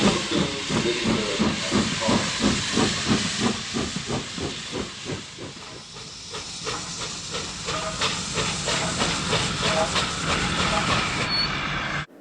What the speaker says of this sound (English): James collected his passengers and respectfully puffed away.